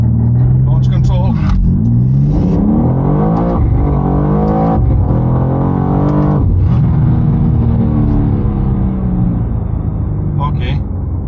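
A BMW G87 M2 makes a launch-control start and accelerates hard. The engine's loud, close roar climbs in pitch, drops briefly at each gear change and climbs again, repeating several times over about eleven seconds.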